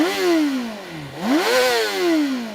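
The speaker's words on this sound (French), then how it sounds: "un classique 4 en ligne de 599 cm3. Mais un 4 en ligne qui aime prendre beaucoup de tours." A Honda CBR 600 RR sport bike's 599 cc inline-four engine revs up, drops back, then climbs sharply again, with a loud, close, smooth high-pitched wail and no talking.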